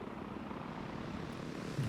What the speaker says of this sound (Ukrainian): О, гелікоптер наш.